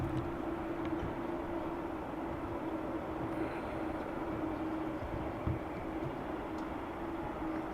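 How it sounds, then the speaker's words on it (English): A Qatar Airways Boeing 787 Dreamliner at Dublin Airport produces a steady, distant engine rumble with a constant whine, a continuous broad roar without talk. "Beautiful Dreamliner of Qatar that just arrived in from Doha."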